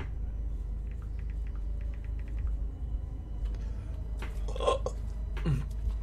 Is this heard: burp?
yes